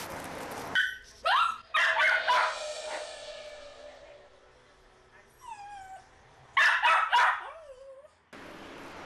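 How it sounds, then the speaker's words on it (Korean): A dog left alone indoors barks toward the door after its owner goes out, sharp close barks in bursts broken by high whimpering whines and quieter pauses. "어머니가 떠나자 문 쪽을 바라보며 짖기 시작하는 녀석"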